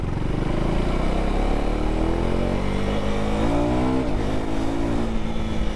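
A KTM Duke 390 motorcycle accelerates hard, its engine note climbing through the gears in a loud, close, continuous whine with rising tones and a shift near the end.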